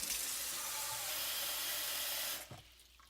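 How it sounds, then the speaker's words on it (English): Warm tap water gushes steadily into a bowl for a couple of seconds, a loud close rushing splash, then shuts off abruptly, leaving a few faint drips. "we're going to get some nice warm water"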